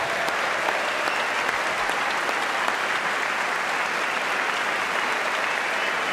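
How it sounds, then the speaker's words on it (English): Applause for astronaut Buzz Aldrin fills a large chamber at the State of the Union, a dense, continuous roar of many hands clapping at an even level throughout. "Of course, the applause goes on there for a little while."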